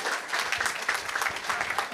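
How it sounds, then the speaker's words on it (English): An audience at a comedy show during a museum grand opening claps in sustained, dense applause, loud and close throughout, with a few voices faintly mixed in. "Vijay, another round of applause, ladies and gentlemen, for Vijay Nathan."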